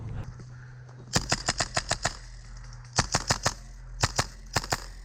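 Airsoft guns fire during an outdoor game at an adventure park, a loud close burst of about eight rapid shots followed by two more quick volleys of three to four cracks each.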